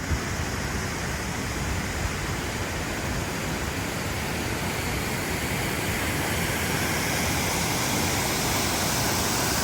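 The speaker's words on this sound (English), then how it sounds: "It's a waterfall that comes right out of the rock there." A mountain waterfall pours straight out of a rock face in a backcountry range, a loud, steady roar of rushing water that stays unbroken throughout.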